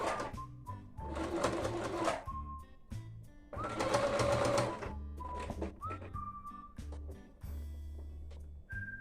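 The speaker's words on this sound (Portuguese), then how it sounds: "vou fixar ela aqui com uma costura" Sewing machine stitching a ribbon bow onto a cloth diaper, running in several bursts of a few seconds each with short pauses between, close and steady.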